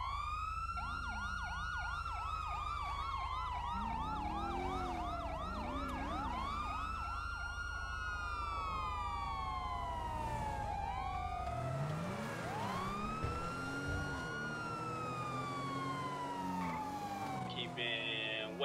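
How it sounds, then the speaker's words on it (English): A police car siren in GTA roleplay wails loudly and continuously, sweeping up and down in pitch over engine rumble, then switches to a faster yelping pattern. "I'm gonna go on my sirens."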